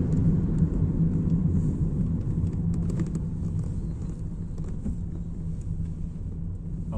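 Inside a car in heavy road traffic on the way to Thuqba, Saudi Arabia, a steady low engine and road rumble fills the cabin, easing slightly over time, with no talking.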